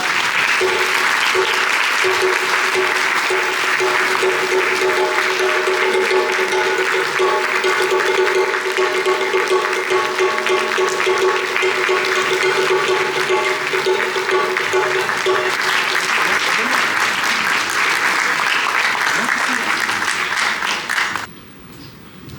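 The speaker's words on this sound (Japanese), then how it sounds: "皆様どうぞ盛大な拍手でお出迎えください。" A large audience applauds loudly and continuously for the Hidenoyama sumo stable at a celebration party for the final day of the Nagoya tournament. The dense, steady clapping lasts about twenty seconds before stopping abruptly.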